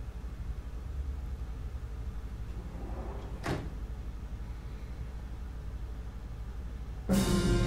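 A door slams shut in a film scene, a single sharp broadband impact near the middle, with another loud burst of noise near the end over a steady hiss.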